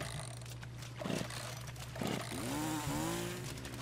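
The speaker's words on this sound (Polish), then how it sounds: "Muszę załączyć sobie piłę" Chainsaw in The Culling video game revs up with two sharp pulls and then a rising, wavering engine whine, loud and close over a steady low hum.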